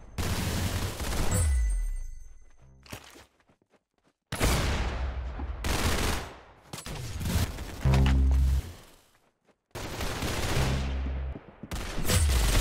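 Rapid gunfire in the Roblox game Arsenal comes in loud clustered bursts and single shots, broken by short silent gaps, with nothing else heard.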